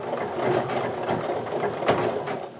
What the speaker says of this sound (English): So what that overlocking or the zigzag stitch does is it's going to sew and seal off the edges